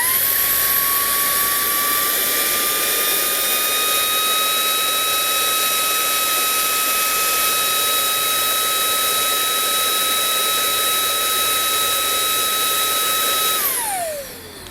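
Makita and Milwaukee cordless leaf blowers running flat out with no nozzles fitted, a loud steady whooshing roar with a high motor whine that holds constant, then winds down at the end.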